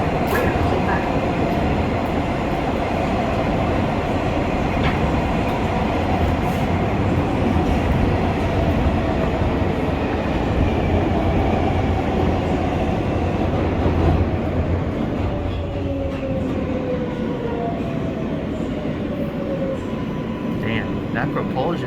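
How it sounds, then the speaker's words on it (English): An R143 L subway train on the New York line to Rockaway Parkway slows down, its propulsion giving a loud, continuous rumble with whining tones that glide downward as it decelerates, with talking over the top. "That propulsion though, when the train slows down, bro, the 143 sounds the best."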